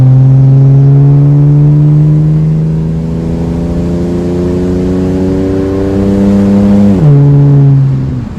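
Classic BMW 635CSi E24 accelerating up a hill, heard from inside the car with the window down as a loud steady engine and exhaust drone rising slowly in pitch, with a brief dip near the end as the revs drop.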